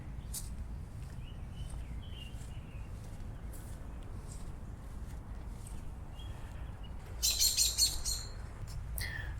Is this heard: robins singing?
yes